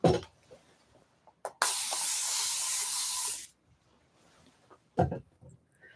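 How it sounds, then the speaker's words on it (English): A spray bottle spritzes water onto a watercolor page in one sustained hissing burst lasting about two seconds, close and loud, with quiet handling noises before and after. "let's just spritz it"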